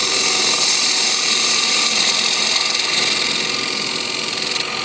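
A 3/8 inch bowl gouge slices a wooden bowl turning on a lathe, producing a loud, continuous hissing cut that holds steady throughout with no talk.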